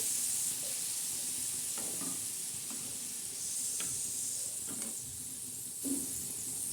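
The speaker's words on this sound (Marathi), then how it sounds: "हे बघा चमचमीत आणि झणझणीत अशी वजडी फ्राय आपण बनवत आहोत" Spicy vajdi, goat tripe, fries on a flat iron tawa with a continuous hissing sizzle, broken by a few spatula scrapes and clinks, with no voices over it.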